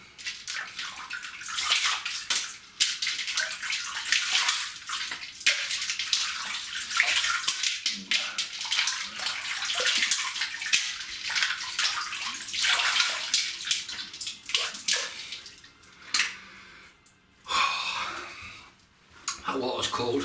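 Cold water runs steadily from a tap into a basin during a wet shave, a continuous close splashing rush with brief sloshes and breaks as hands move through the stream.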